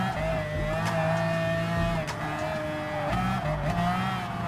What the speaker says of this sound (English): it is definitely very different to hear it when racing it